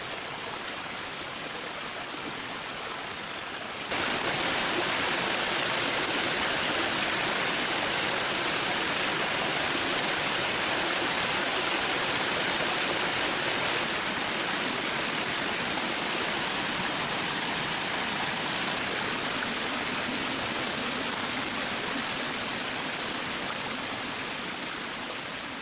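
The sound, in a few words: rocky stream flowing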